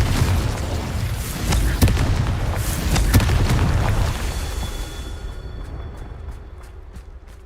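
Booming spell explosions from the Hogwarts Legacy video game, several heavy blasts and sharp bursts in quick succession, loud and rumbling, fading into sparse crackling pops near the end.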